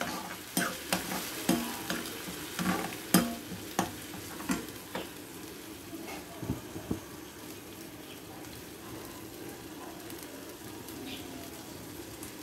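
Carrot paste being stirred into chicken curry frying in a pan, a run of rhythmic scraping strokes over a soft sizzle that settles into a quieter steady fry, close and moderately loud.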